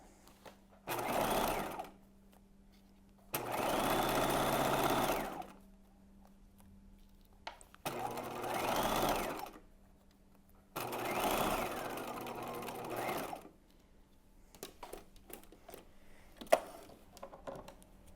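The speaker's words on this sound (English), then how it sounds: "I'm using my edge stitch foot, and we're just gonna sew top to bottom on each side of the channel." A domestic sewing machine with an edge stitch foot runs top to bottom along a bodice channel, buzzing in four steady bursts of a second or two each, separated by pauses and quiet handling sounds, close and fairly soft.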